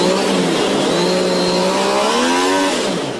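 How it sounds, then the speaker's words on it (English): An MV Agusta 675 three-cylinder motorcycle engine revs hard on a dyno in a development test room, loud and continuous, its pitch rising and falling in steady sweeps with no voices. "This is the dyno room where we mainly developed the engine."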